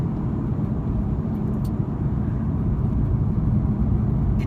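A 2016 Audi R8 V10 Plus drives along, its engine and road noise forming a loud, steady low-pitched drone with little variation, close and continuous with no talking.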